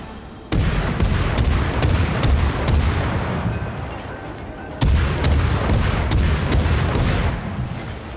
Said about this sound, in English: oh, there's explosions around me.